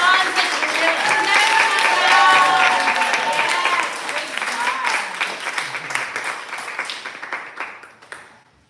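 Audience applause at a live poetry reading fills the room, loud and steady at first, then thinning into scattered claps as it fades out over several seconds.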